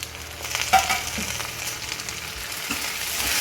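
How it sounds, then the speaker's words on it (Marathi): Onion, coriander and mint roast together in a pan for a Malvani spice paste, giving a steady soft sizzle with faint crackles and an occasional stirring scrape, close by and without talk. "ही कोथिंबीर आणि हा पुदिना. हे आपण ह्या कांद्याबरोबर भाजून घ्यायचं."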